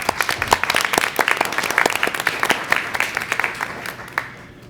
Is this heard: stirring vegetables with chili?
no